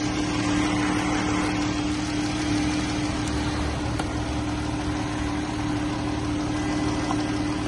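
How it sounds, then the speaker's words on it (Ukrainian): A 2019 Jeep Cherokee engine idles under the hood during a used-car inspection, a steady, even hum with a constant low drone and no change in revs, heard up close and without talk. "Тут по двигуну ніяких питань немає, двигун гарно працює."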